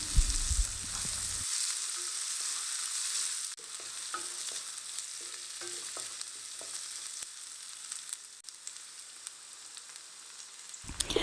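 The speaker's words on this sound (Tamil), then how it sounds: "அதை எல்லாத்தையும் சேர்த்துட்டு இந்த வெங்காயம் பூண்டெல்லாம் 1 நிமிஷம் நல்லா வதக்கி விட்டுலாம்." Onion, curry leaves and garlic sautéing in a pan for a chow chow poriyal, a steady close sizzle with occasional spoon scrapes and stirring clatter throughout, no voices.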